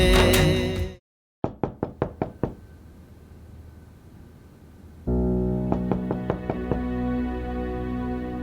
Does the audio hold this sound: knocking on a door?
yes